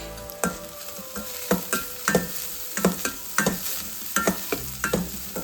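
Onions frying with turmeric in a pan, a steady sizzle broken by a regular series of sharp scraping stirs, close and alone.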